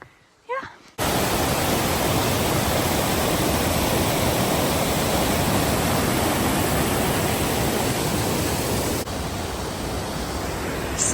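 A waterfall tucked among the trees beside a forest trail in North Cascades National Park, Washington, rushes as a loud, steady roar that fills the scene almost without a break.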